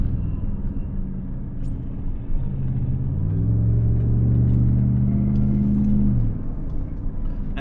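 A Jeep's Hemi V8 idles with a low rumble, then the throttle is pressed lightly and it revs up to a steady higher hum for a few seconds before dropping back to idle, close and fairly loud, no talking.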